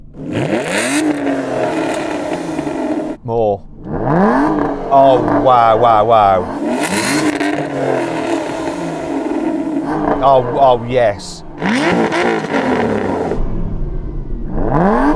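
Aston Martin V12 car engine revving repeatedly, loud rising and falling blips and a roaring surge up close, with people talking and exclaiming in between.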